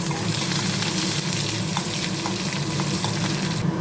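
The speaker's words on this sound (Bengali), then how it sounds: "পেঁয়াজ দিয়ে দিলাম।" Sliced onion hits hot oil already frying dried red chillies, giving a loud, steady, unbroken sizzle with faint stirring clicks and no voices.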